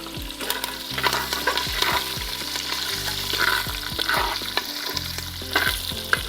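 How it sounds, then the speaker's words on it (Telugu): Curry leaves and spices sizzle loudly in hot oil in a pan for a tempering, with steady frying crackle and repeated scraping stirs of a spoon, close and without talk. "సో బాగా వేగిపోయాయి కదా తాలింపులు."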